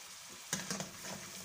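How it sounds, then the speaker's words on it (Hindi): Ground spices frying in oil for a fish curry, with a short burst of sizzling as a spoon stirs and knocks in the pan, then a softer steady hiss. "अब इस मसाले को हम अच्छी तरह भून लेंगे जब तक इसका ऑयल अलग नहीं हो जाता।"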